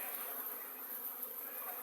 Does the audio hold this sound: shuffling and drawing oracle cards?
no